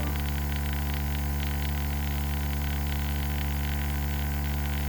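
A GAAHLERI Turbo X Mini small airbrush compressor runs with a steady electric motor hum, constant drone and faint noisy hiss, unchanged throughout, close by.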